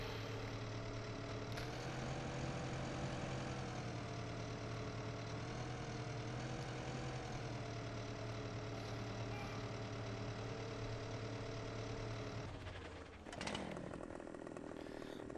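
A tractor engine idles in Farming Simulator 15, a steady buzzing drone with a constant pitch that dips and stutters briefly near the end, with no talk.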